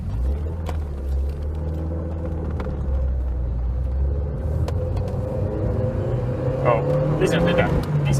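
A Lancia Delta HF Integrale rally car engine rumbles steadily at low pitch while driving, with a brief rising rev partway through and faint road noise throughout.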